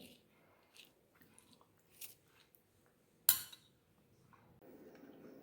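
A spoon scoops the soft pulp out of a cut ridge gourd: quiet, scattered scraping and wet squelches, with one sharp metallic click partway through, heard close up.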